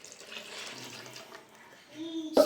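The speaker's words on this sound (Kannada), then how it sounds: "ಜಾರಿಗೆಲ್ಲ ನೀರು ಹಾಕ್ಕೊಂಡು ಈ ಥರ ನೀಟ್ಗೆ ತೆಕ್ಕೋಬೇಕು" Water is poured into a mixer jar to rinse out the last of the ground masala for avare kalu saaru, a soft and quiet splashing trickle ending in a brief sharp clink.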